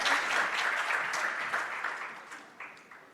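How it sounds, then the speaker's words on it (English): Audience applause fills a closing plenary session hall, a dense, sustained burst of many hands that gradually thins and fades toward the end, with a few louder claps near the close. "Let's give her a Brazilian hand of applause."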